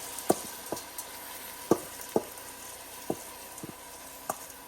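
Washed rice tipped into vegetables frying in a pot for a Guyanese shine rice dish, giving a steady low sizzle broken by several sharp clinks and scrapes at irregular intervals, with no voices.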